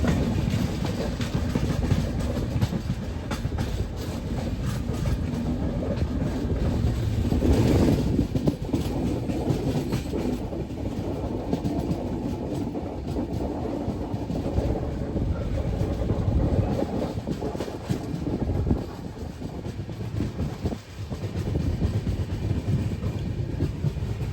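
A Humsafar express train runs on the Raichur line, heard from inside a 3AC coach of the KSR Bengaluru–Nanded service as a steady, loud rumble with continuous wheel clatter throughout.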